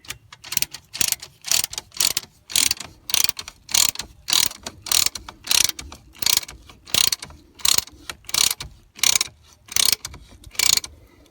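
Steady ratcheting from tightening a pair of extra-large Ultra-Fab Super Grip wheel chocks against tires, a regular series of loud, close clicking bursts repeating about once per second with no talk.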